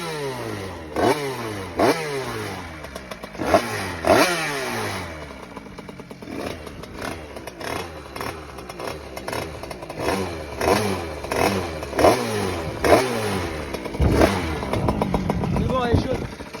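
Motorcycle engine idling roughly with repeated revving bursts and clattering, loud and close, running throughout.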